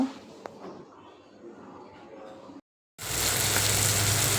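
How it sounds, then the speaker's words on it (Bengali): Spices with salt and turmeric sizzle in a very hot pan after chopped tomato and onion have fried; a softer crackle breaks off into a brief silence, then a loud, dense, steady hiss returns. "এদিকে আমার মশলাটা কষানো প্রায় হয়ে আসলো"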